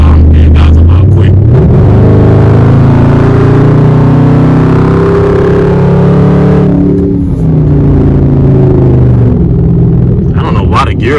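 Inside a 2016 Dodge Charger R/T with a Hemi V8 and the windows up, the engine roars loudly as the car accelerates, its deep rumble climbing steadily in pitch, then easing off near the end.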